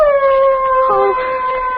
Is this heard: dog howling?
yes